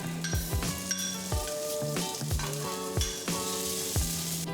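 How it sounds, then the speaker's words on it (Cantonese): Ginger slices and onion sizzle in hot oil in a wok, a steady close frying hiss broken by several clanking stirs, no talking. "落薑片同洋蔥爆香，"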